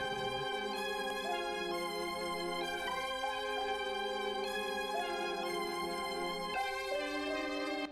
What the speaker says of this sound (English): So first thing I did was make this main loop, which sounds like this.